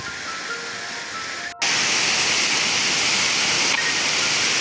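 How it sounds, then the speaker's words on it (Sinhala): Water pours from the Manan Ella waterfall in Sri Lanka and flows among rocks, making a steady, dense rush that grows louder and fuller after a brief cut near the start and then holds evenly to the end. "දිය ඇල්ලෙන් ගලා යන ජලපහර ගල්කුළු අතරින් රිංගමින් තවත් ඉදිරියට ගලා යන ආකාරය"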